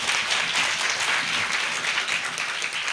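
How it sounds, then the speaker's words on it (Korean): Thank-you applause from a university lecture audience for a guest ambassador speaker, dense crowd clapping that swells and holds evenly, fairly loud and unbroken across the whole stretch. "다시 한번 감사의 박수를 부탁드립니다"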